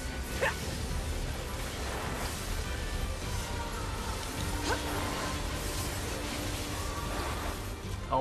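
A dog in the Nier Automata video game gives a few scattered barks and yips, fairly faint under a steady game background hum.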